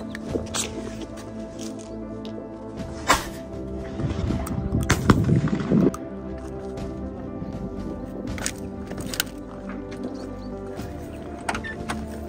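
Several sharp, loud gunshots from a Beretta hunting shotgun ring out at irregular intervals outdoors, with a cluster of mechanical clatter and handling noise midway and faint voices between shots.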